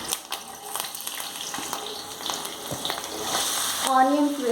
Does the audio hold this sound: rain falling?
no